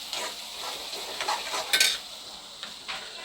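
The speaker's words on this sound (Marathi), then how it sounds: "मसाले छान परतवून झालेले आहे।" Spice masala sautéing in hot oil in a pan for Maharashtrian misal pav, a steady soft sizzle with occasional scraping and stirring clinks of a spoon against the pan.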